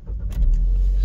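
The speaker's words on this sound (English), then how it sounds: "Let's start her up." A Vauxhall Meriva automatic fires up: a brief starter whir, then the engine catches and settles into a low, steady idle rumble, close and clear.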